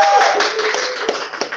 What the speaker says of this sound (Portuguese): outorgar a Leandro Azevedo, palmas para ele,